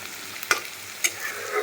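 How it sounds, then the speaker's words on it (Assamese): Chopped onion and garlic frying in oil, a soft steady sizzle broken by two sharp spatula scrapes against the pan, no voices. "এয়া তেলত মই পিঁয়াজ আৰু নহৰু সৰু সৰুকৈ কাটি দিছোঁ অকণমান ৰঙচুৱা হোৱালৈকে ভাজিব দিছোঁ"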